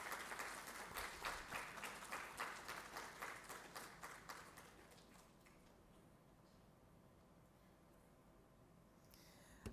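Applause for a group of authors and synopsis writers at a formal vote-of-thanks session: a steady patter of many hands clapping in a hall, loud at first, then thinning and fading out over several seconds.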